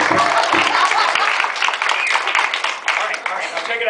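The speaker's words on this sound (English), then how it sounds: "You got to clap here" Audience applause and clapping at a juggler's motivational speaking show, a steady burst of many hands lasting a few seconds and fading slightly near the end.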